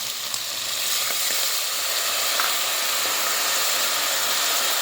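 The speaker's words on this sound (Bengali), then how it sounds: "এখন দিয়ে দিচ্ছি একটু করে জল।" Water poured into a very hot kadai while cooking Malabar spinach with shrimp gives a steady, loud broadband sizzle and hiss that holds for about five seconds, close up and without talk.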